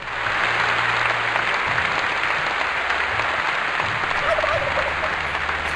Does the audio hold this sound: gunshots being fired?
no